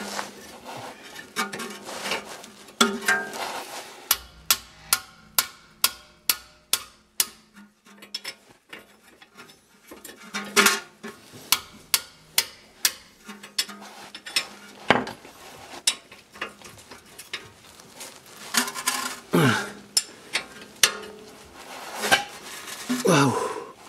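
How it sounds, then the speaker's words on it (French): A sledgehammer taps repeatedly on the front lower control arm of a 2011 Audi A4 B8 to loosen it, with sharp metallic knocks that come in quick bursts, some louder than others, plus a few faint voices. "On va employer les grands moyens, la masse. On va tapoter pour desserrer."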